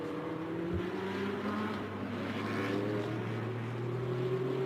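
Race car number 89 passing during a B-Quik Super Series circuit race, a steady loud engine drone with rising tone that holds throughout alongside continuous track noise.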